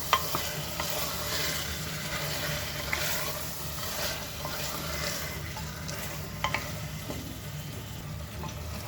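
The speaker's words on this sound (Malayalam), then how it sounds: "ഇതിലേക്ക് നമ്മൾ കട്ടാക്കി വെച്ച ചിക്കൻ ഇട്ട് കൊടുക്കുക. ഒന്നൊന്ന് നന്നായിട്ട് മിക്സ് ചെയ്ത് കൊടുക്കുക" Chicken pieces are stirred into masala in a pan, giving a soft continuous sizzle with scraping strokes and a few sharp clicks of the utensil.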